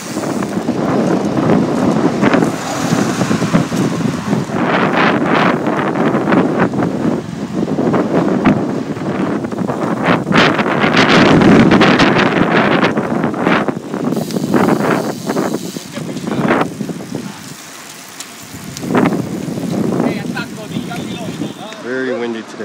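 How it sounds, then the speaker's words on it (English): Strong wind buffets the microphone during a group road bicycle ride, a loud continuous roar under nearby talking throughout. "It is windy."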